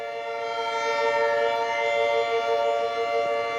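A civil defense siren wails steadily during a severe thunderstorm warning, a sustained tone that stays loud and unbroken throughout, with faint background noise and no voices.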